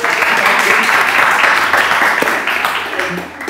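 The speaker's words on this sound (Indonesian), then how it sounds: "Tepuk tangan." Applause from a studio audience at a talk show with a rapper as guest, a dense, loud wash of clapping that runs steadily and fades slightly at the end.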